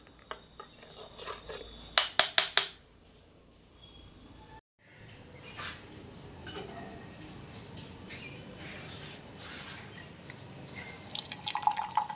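Tea strained through a sieve into a cup trickles and drips quietly, with a few sharp clinks of metal utensils on cups near the start.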